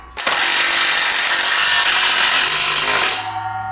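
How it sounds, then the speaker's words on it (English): A power tool drives a bolt down with a 9/16 deep socket during trailer assembly, giving one loud, steady whirring burst of about three seconds that cuts off abruptly, with no voices. "Go ahead and tighten that down with the 9/16 deep socket."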